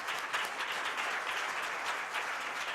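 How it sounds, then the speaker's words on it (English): A crowd at a Black History Month celebration claps steadily, a moderately quiet, even wash of applause that carries on without voices. "Let's give her a round of applause."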